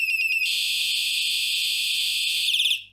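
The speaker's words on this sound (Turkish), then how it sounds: "Bu korna sesini çok seviyorum." A loud, continuous solar-powered electronic bicycle horn blares close by, a harsh buzzing tone held for over two seconds between brief warbling bursts, then stops.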